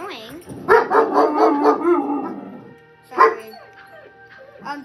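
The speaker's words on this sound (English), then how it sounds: "my dogs start barking and being annoying" Several dogs bark in quick repeated bursts near an indoor spot where someone is playing a game, then a lone yip follows after a pause, with a person briefly speaking between barks.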